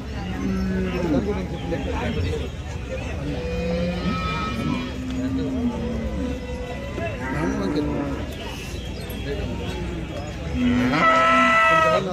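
Cattle at a busy cattle market moo repeatedly, long low calls rising and falling close by, with a louder moo near the end, while people talk and bargain throughout.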